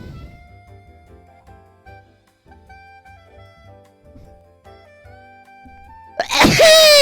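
A single loud, sudden sneeze bursts out at the end, following several seconds of quiet, sparse tonal music notes.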